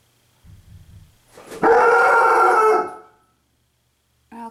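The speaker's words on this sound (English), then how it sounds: "Stop barking." A dog gives a few low grumbling woofs, then one long loud howling bark lasting over a second, followed by silence and a short sharp bark at the end.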